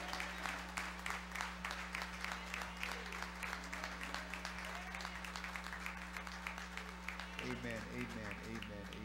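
Steady applause from a church congregation, many hands clapping continuously at a distance, fairly faint, with a low hum running underneath throughout.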